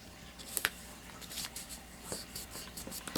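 A bone folder creases a folded paper card for a double-fold card, giving a few faint, short scraping swipes close by in a quiet room, with no talking.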